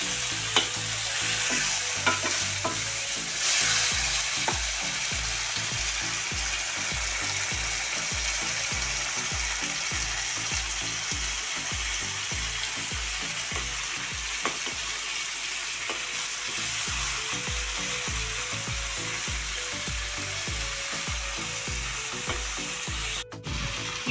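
Mutton and dosakaya curry sizzle in a pan while a utensil stirs in a quick, steady rhythm of scraping strokes, close and continuous with no talking.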